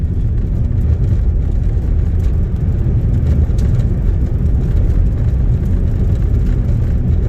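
A 25-year-old Volvo station wagon drives steadily, its engine and road rumble forming a loud, continuous low drone throughout, with no voices.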